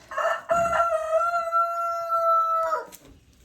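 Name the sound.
chickens and rooster crowing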